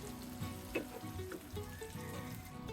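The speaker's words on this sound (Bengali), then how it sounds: "এবার মাংসের উপর ফোড়নটা ঢেলে দেব।" A hot tempering of garlic, onion and dried chili fried light brown is poured over beef for kala bhuna, producing a close, steady frying sizzle with soft stirring sounds and no talk.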